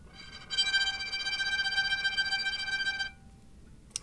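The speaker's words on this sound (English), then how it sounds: "the other one is called a tremolo" Violin tremolo, a rapid shimmering bowed note held for a few seconds with a fast pulsing flutter, fairly quiet and alone, meant as a creepy, scary sound.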